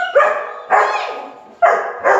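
A dog in a drive-training session barks four times in a sharp, evenly spaced series. The barks are loud and close, with brief silent gaps between them.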